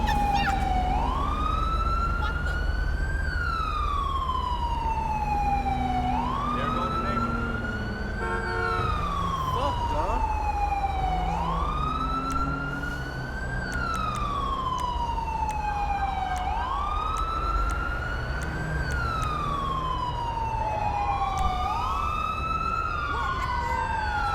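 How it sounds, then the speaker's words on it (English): Wailing ambulance siren from a Los Santos emergency-services simulation game, rising and falling in a steady repeating cycle, loud and continuous throughout with no voices over it. "So here's our ambulance."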